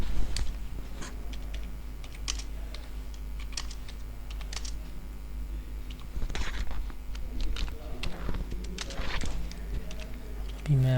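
Computer keyboard keys are tapped while text is typed, a steady run of quick, irregular clicks close to the mic over a low background hum throughout.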